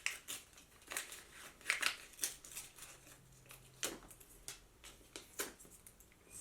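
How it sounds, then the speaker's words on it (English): Scissors snip through the seal of a Cartier luxury package, a string of crisp, close cuts and small paper crinkles in uneven rhythm, with no talking. "let's get the seal as best we can"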